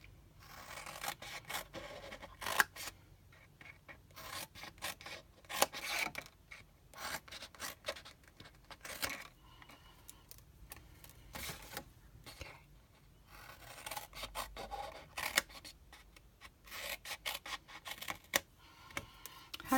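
Thin scissors snip through paper in short, quiet bursts of crisp rasping cuts, irregular in rhythm, close by with no talking.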